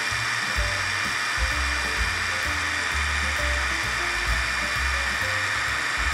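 Yasuka YIW 500CB cordless brushless impact wrench spinning in reverse at full speed, a steady high-pitched motor whine with low rhythmic hammering underneath, close and continuous with no talk.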